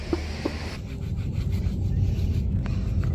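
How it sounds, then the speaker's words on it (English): Cloth rubbed back and forth over faded plastic car trim while wiping it down with acetone, a close, scratchy rhythmic scrubbing that grows denser after the first second. "I'm wiping it off with acetone."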